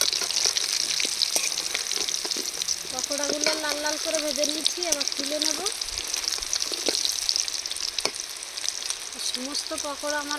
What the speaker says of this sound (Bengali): চিকেনগুলো সব ফ্রাই করা হয়ে গেছে